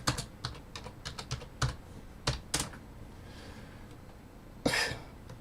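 Irregular, close clicks of a computer keyboard being typed on, with sharp strikes spaced through a quiet room and one louder cough-like burst near the end, no talking.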